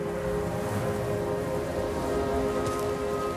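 Timefall rain in a Death Stranding video game trailer, a steady hiss of rain falling on surfaces, dense and even throughout under a low musical drone.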